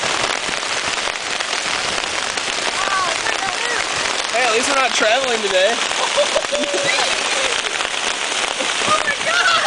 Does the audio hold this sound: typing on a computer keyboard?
no